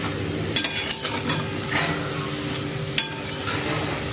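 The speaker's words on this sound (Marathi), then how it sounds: "आता हे मी मस्तपैकी मिक्स करून घेते" Bhogi bhaji, a Marathi mixed vegetable curry, is stirred and mixed in a pan, with scraping strokes over a soft sizzle and a few sharp clinks of the spoon against the metal, heard close with no talking.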